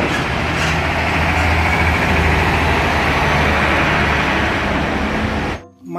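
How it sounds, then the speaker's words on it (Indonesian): Engine sound effect from a Pertamina tanker truck toy: a continuous heavy rumbling drone, loud and even throughout, that drops away sharply near the end. "Truk tangki Pertamina"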